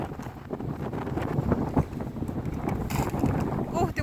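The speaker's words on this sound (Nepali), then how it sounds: "समुद्रमा अब यस्तै त नि हावा लाग्छ" Seaside wind at Knokke buffets the microphone in a steady, rumbling roar with gusty swells, with faint indistinct voices mixed in.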